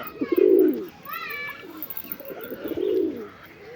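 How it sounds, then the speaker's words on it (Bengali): Newly acquired pigeons give two close, throaty coos with a softer chirping call between them, heard at an evening bath time. "এসবগুলো নতুন পায়রা"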